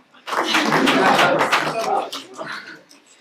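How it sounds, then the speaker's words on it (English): Audience applause for volunteers at a music and neuroscience talk, a dense burst of clapping swelling quickly, holding strong for nearly two seconds, then thinning and fading. "give a strong round of applause for our volunteer"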